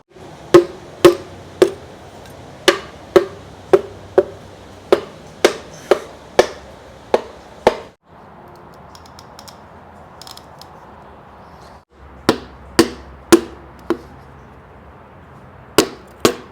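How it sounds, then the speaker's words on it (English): Pistons being tapped down into the engine block of a 1948 Chevy inline six through a ring compressor, a series of sharp, close, regular knocks in quick bursts, pausing for a few seconds before resuming. "you want to talk about punching pistons, boy"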